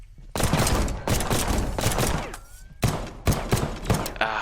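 Boomstick shotgun firing in the video game The Pit: Infinity: a series of loud, heavy blasts in quick succession, each a broad burst with a rumbling tail, roughly half a dozen shots over a few seconds.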